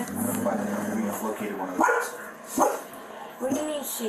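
A dog barks and yips a few times in short bursts during a police response to a deadly dog attack, partly under people talking nearby.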